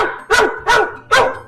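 A dog in a cartoon story, trapped in a burning car, gives three loud, evenly spaced barks, close and alone with no talking.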